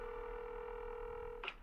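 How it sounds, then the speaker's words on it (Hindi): Telephone dialing tone, a steady electronic beep held for over a second and then cut off by a short click, quiet and close, heard alone with no voices. "टेबल के सामने रखे न्यूज़पेपर को किनारे रखा और फौरन मेहता को फोन मिलाया।"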